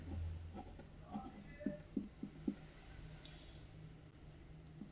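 A pen writes out a linear equation substitution on paper, giving a few soft close scratches and taps, faint and brief, with quiet talk nearby.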